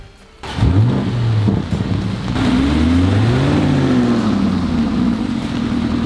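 A Lamborghini Urus engine fires up after a brief quiet moment, then revs loudly and repeatedly with rising and falling engine tones, close and steady for several seconds.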